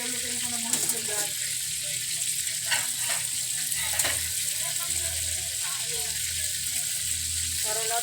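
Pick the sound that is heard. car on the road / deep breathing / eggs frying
eggs frying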